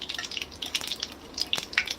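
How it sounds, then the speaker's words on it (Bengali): Panch phoron and dried red chillies frying in hot oil in a pan, a close crackle of small pops and spits with light stirring scrapes, no voices. "এবারে এই তেলের মধ্যেই হাফ চামচ পাঁচ ফোড়ন আর কয়েকটা শুকনো লঙ্কা দিয়ে দিলাম"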